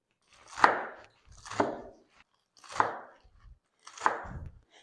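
Fresh herbs being coarsely chopped with a knife, four loud, evenly spaced chopping passes about a second apart, close and alone with no talk.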